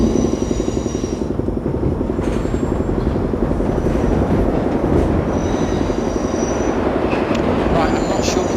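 An express subway train on New York Line 7 from Main Street to Times Square in the game World of Subways rumbles steadily along with rhythmic wheel clatter and intermittent high squeals from the rails, continuous and fairly close.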